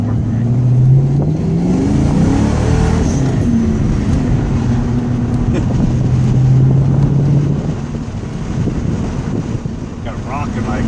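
A modified Ford Mustang engine with a modified mass airflow sensor and new tune runs loudly up close, revving briefly at the start and then settling into a steady throbbing rumble, with wind buffeting the microphone.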